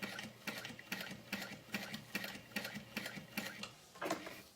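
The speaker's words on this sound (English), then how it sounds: "I am gonna sew with the wrong side up and just slowly trace around the edge" A sewing machine stitches a leather clutch wallet in short, regular bursts of rapid mechanical clatter, close and fairly quiet, with brief pauses between runs of stitches.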